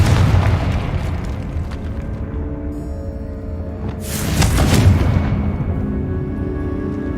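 A Confringo fire spell blasts in the video game Hogwarts Legacy, a loud boom swelling midway over a rumbling background of game ambience.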